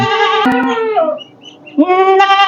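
A Totapuri goat at a livestock farm bleats loudly and close by, one long wavering cry followed by a second after a short pause, with brief knocks mixed in.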